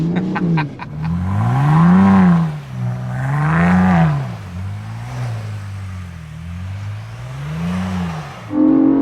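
A Ford Bronco Raptor's powerful engine revs up and down in repeated waves while doing a donut in snow, rising and falling pitch as the vehicle swings around, loud and close, with no talking.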